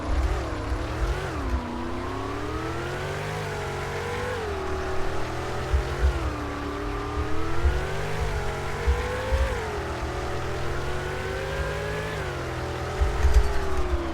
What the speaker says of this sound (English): Listen to this engine sound.